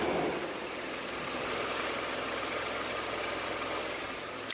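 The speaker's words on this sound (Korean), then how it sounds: "엔진 소음 먼저 들려드리면은 아직까지 굉장히 정숙하고요" A Kia K7 car engine idles steadily close by, a smooth even hum with a faint mechanical ticking and no voices.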